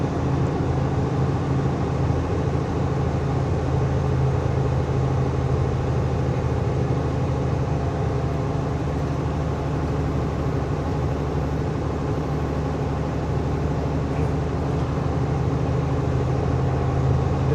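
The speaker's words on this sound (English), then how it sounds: "hearing the turbo and the air intake is just such a different sound" A brand-new truck without the large side-mounted air intakes drones steadily while driving, with a continuous turbo and air-intake rush over a low engine hum, heard from inside the cab and unbroken throughout.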